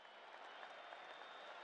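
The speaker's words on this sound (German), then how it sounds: "Applaus, Applaus." Crowd applause in the video game Harry Potter: Quidditch Champions: a short, faint, even wash of clapping and cheering with no break.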